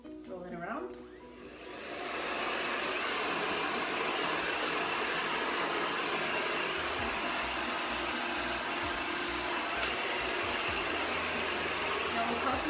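A hair dryer blow-drying hair kicks on after about two seconds and then blows in a steady, loud, close whoosh to the end.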